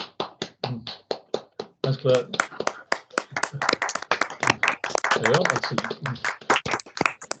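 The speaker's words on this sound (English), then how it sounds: "Okay, folks, you're allowed to unmute as we applaud." Scattered hands clap during an online lecture on early Vikings as participants unmute, starting as sparse individual claps and thickening into uneven applause, with a voice speaking briefly over it.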